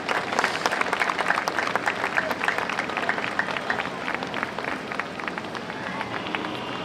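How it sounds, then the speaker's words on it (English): Crowd applauding at a Veterans Day parade in downtown San Jose, a steady outdoor wash of many hands clapping for the full stretch, with scattered cheers and voices mixed into the sustained roar. "Let's give him a big round of applause, folks, for these great American heroes."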